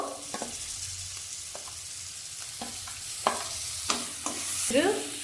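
Food frying in a pan with tomato and salt added, a steady sizzle running throughout with several sharp scraping stirs of a spoon against the pan, close and fairly loud.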